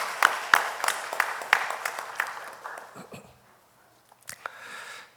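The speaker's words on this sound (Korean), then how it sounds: "여러분 큰 박수로 격려해 주시길 바랍니다." Church congregation applauding three seminary students, a scattered burst of clapping that thins out and fades to near silence, followed by a few faint rustles.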